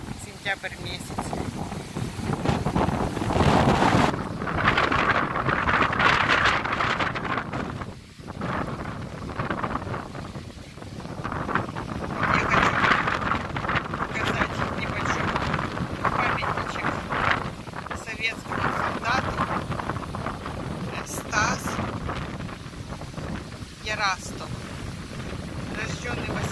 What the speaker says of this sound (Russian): Конечно, ветер сегодня